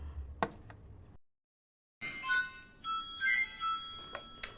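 A mobile phone plays a melodic ringtone close by for an incoming call from a girlfriend. A short tap and a brief silence come before it, and the tone repeats in short bursts.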